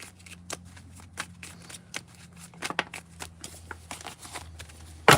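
Tarot cards being shuffled by hand, a rapid series of close, crisp riffles and slaps with irregular rhythm in a quiet room.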